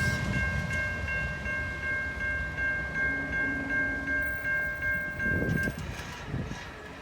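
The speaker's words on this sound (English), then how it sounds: "that was definitely a really interesting mixed train going southbound" A mixed freight train rumbles past nearby with a steady roll of railcars, a sustained K5HL horn tone sounding over it before the noise thins out.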